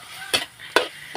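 Ingredients being dry-roasted in a pan while young mango, shallots, seasoning powder and salt are prepared: three short, sharp scraping stirs at a steady pace over a quiet kitchen background, with no talking.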